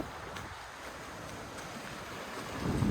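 Steady broadband rush of river water on an autumn walk through a Stockport park, continuous and fairly close, with a slight swell in loudness at the end and no voices.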